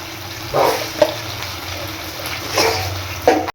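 Ginger, green chili and melon-seed cashew paste sautéing in a pan, a soft steady sizzle with a few brief stirring scrapes and bursts.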